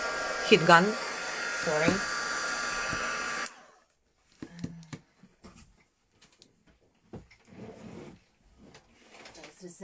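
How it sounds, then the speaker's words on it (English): Heat gun blowing hot air to dry sand paste on lavender décor, a loud steady whirring roar for a few seconds that cuts off abruptly, followed by quiet handling sounds and a brief spoken apology. "so I'm drying it by heat gun."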